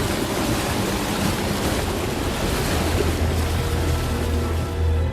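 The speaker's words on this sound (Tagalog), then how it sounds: "Masyadong malakas ang agos ng tubig." Rushing floodwater during a typhoon pours past in a loud, continuous roar, a dense wash of churning water and low rumble with no break or voices.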